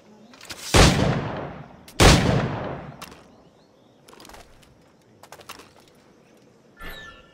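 Sharp, loud flintlock-style gunshots crack twice in quick succession in Assassin's Creed IV: Black Flag, each with a booming tail, followed by fainter scattered shots and clatter.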